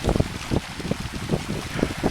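Gusty wind buffets the microphone outdoors at Cottonwood Lake below Crestone Peak, rising in irregular low rumbling bursts with a faint watery hiss, steady and close, no talking.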